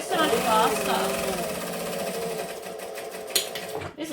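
A sewing machine stitching vinyl runs steadily and loudly, its fast mechanical whir continuing for several seconds before slowing near the end, with a voice talking over it.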